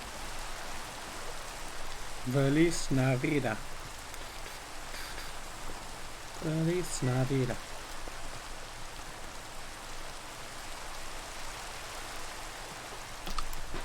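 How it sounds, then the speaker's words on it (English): Steady rain falling in the video game Minecraft, a soft continuous hiss running the whole time while a voice twice sings a short festive phrase over it. "I like the rain sound effects in Minecraft"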